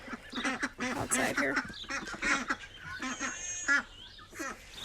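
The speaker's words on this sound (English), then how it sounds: "There's the rest of the ducks" Several ducks quack in bursts outside near a backyard pool during evening chores, loud and close, while a person talks briefly over them.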